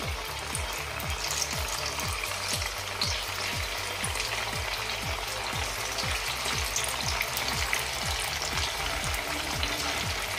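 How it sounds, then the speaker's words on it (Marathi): Sabudana (tapioca pearl) french fries deep-frying in a pan of hot oil: a loud, steady sizzle with rhythmic bubbling pops running throughout, close by, with no one speaking. "इथे तेल गरम झाले, आता आपण हे फ्राय करून घेऊयात"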